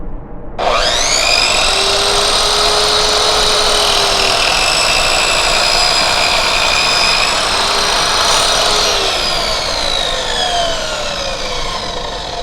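A power tool whines loudly through plywood for a bench build, cutting continuously for about eleven seconds with a steady high pitch that shifts slightly near the end, heard alone without talk.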